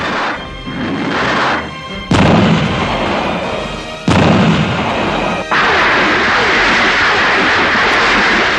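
Heavy gunfire from a large military unit, sounding like artillery salvos, rolls across open country in loud sustained bursts, with sharp new volleys at roughly two-second intervals, each followed by a long reverberating echo.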